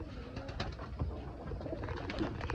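Pigeons cooing in a breeding loft, soft repeated low coos overlapping close by, with rustling and faint shuffling throughout and no talking.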